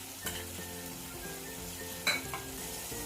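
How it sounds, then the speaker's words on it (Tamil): Tomatoes frying and being stirred in a pan for sundakkai vathal kuzhambu, a steady close sizzle with light scraping and a brief louder clatter partway through, no talk. "அரைச்சி தக்காளியை போட்டு நல்லா கிளறுவோம் இது வேகட்டும்"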